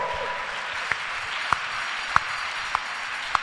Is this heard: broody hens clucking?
no